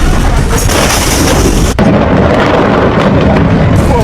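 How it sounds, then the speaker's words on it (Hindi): A loud, rumbling explosion roars continuously with a deep booming roll and a sharp crack partway through. "आखिर ये धमाका था किसका?"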